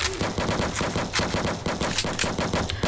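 Rapid automatic gunfire in a Roblox game aimed at attacking muffin enemies, a loud, steady stream of shots with a regular rattling rhythm across the whole stretch.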